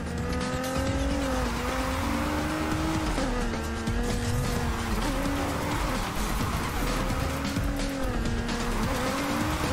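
A Polestar 1 drifting in Need for Speed Heat: a loud, sustained engine whine that rises and falls with shifting revs, and tire squeal running steadily underneath.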